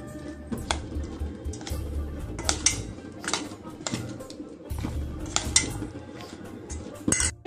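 A spoon clinks and scrapes against a bowl while besan batter for cauliflower pakora is mixed, with repeated irregular metallic taps and a soft wet squish between them, close and fairly quiet.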